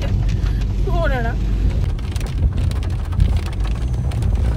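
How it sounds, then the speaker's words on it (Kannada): Heavy rain falling in Coorg, a dense, steady roar of downpour with strong low rumble and wind buffeting close to the microphone, continuous throughout. "ಬಟ್ ಸಖತ್ ಮಳೆ ಬರ್ತಾ ಇದೆ."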